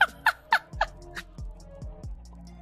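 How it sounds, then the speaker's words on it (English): A quick run of four loud, bright chicken calls in Minecraft, followed by softer repeated squawks and thumps from a large flock on an automated farm. "We got an army of freaking chickens."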